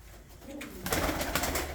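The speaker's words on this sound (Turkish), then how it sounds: "Çok kuş var abi ya" Pigeons coo in a bird-filled loft or coop during a live pigeon auction broadcast in Antalya, soft throaty calls rising in a dense, continuous flock chorus that grows louder after a quieter start.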